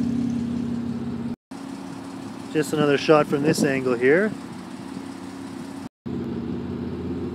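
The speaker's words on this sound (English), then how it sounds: "Got the aftermarket exhaust on it." A Hyundai Genesis 3.8 with an aftermarket exhaust idles steadily with a low, even hum, while someone talks over it in the middle; the sound briefly drops out twice.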